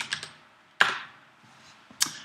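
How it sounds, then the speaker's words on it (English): A few keystrokes on a Mac computer keyboard, three separate clicks spaced out over a couple of seconds. They are close and fairly quiet in an otherwise still room, with no voices. "one way to do this is to hit Control Space and then type terminal"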